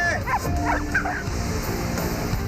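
Dogs bark in a quick burst of several yips and barks near the start, followed by a whimper, over a steady outdoor hum.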